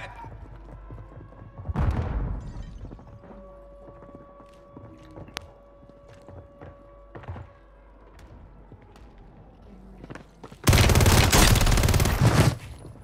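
Call of Duty gunfire comes in scattered bursts and single shots over a quieter stretch of footsteps and game ambience, ending in a loud, sustained volley of rapid fire.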